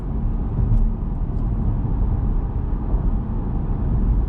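Chevrolet Bolt EV coasting downhill with no brake or regen paddle applied, heard from inside the cabin as a steady, even road-and-tire rumble that holds at the same level throughout.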